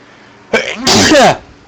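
A single sharp sneeze indoors during a casual podcast-style conversation, close and loud, a short inhale then a burst lasting under a second.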